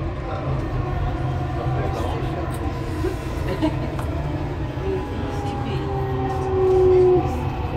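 A Dubai Metro train running, with a steady rumbling rail hum and a brief tonal whine rising near the end, while an announcement voice speaks over the ride.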